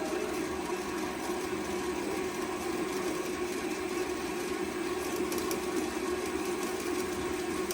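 A homemade lathe runs steadily, its motor giving a constant close hum with a mechanical whine, used to bore out a larger hole while making a spool wrench; it drones alone with no talk.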